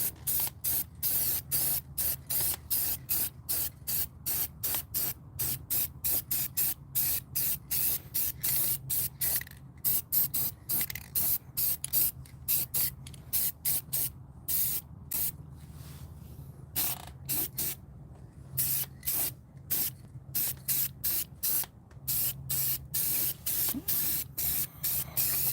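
Blue paint is sprayed onto a 5.3 LS engine block in dozens of short, rapid hissing bursts that repeat steadily throughout, loud and close, with a low hum underneath.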